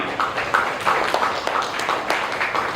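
Audience applause at a Tamil literary music stage event, a steady wash of many hands clapping with rhythmic pulses, fairly loud and continuous with no talk over it.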